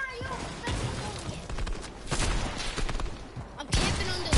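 Sniper shots in a video game crack out in several loud bursts, the sharpest near the middle and end, over constant game noise and a player's talk.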